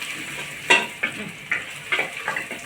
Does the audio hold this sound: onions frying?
yes